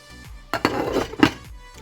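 A pot lid set onto a pot of boiling jicama on the stove, giving a few close metallic clanks and rattles in under two seconds, with no talk.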